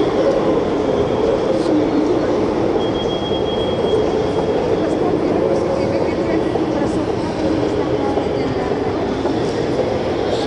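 A metro train running through a Russian underground tunnel, heard from inside as a loud, constant rumbling roar with a faint high squeal, under muffled voices talking.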